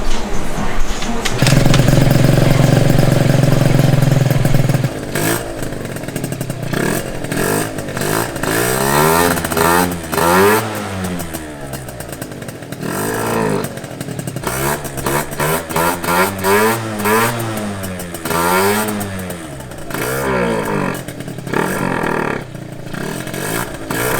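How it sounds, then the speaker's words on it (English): A Derbi GP1 Piaggio scooter fitted with a new pipe and racing variator starts up in a hot garage, then its small two-stroke engine revs up and down in loud repeated bursts, close by, for the whole stretch. "I'm ready to hear it start up"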